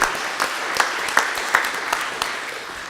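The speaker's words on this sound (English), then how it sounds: "Let's give Jeff another round of applause for everything." A short burst of applause from a crowd, dense clapping holding steady then fading slightly.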